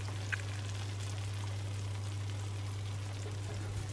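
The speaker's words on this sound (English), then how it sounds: "can you hear that sizzle?" Steady, even sizzling of food frying in a pan, with a low electrical hum underneath and no voices.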